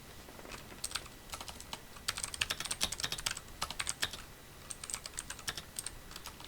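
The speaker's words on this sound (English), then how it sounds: "Excuse my typing." Typing on a computer keyboard, with rapid clusters of key clicks and short pauses between bursts, close and clear with no talking.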